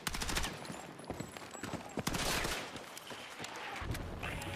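Gunfire and strikes in the battle royale game Battlefield 6 REDSEC: dense, rapid bursts of shots and sharp impacts cracking close together, with a few heavier blasts.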